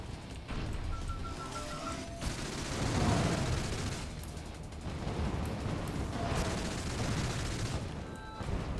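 Sustained barrage of gunfire from a custom-built gun in the FPS Mothergunship, a dense, continuous roar of rapid shots and blasts that swells and ebbs over several seconds.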